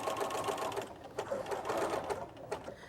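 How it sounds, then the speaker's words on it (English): A sewing machine stitches a cord down onto an art quilt, its motor whirring in a continuous close hum with a rapid needle rhythm throughout and small shifts in pace. "this is a raw kind of a stitching because all we're doing is putting the cord down"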